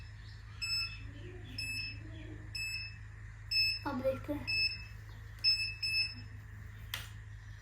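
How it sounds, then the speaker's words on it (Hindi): A hair curler gives a series of short, bright electronic beeps at a steady rhythm, repeated about six times, while someone speaks in Hindi over them. "बीप हो रहा है।"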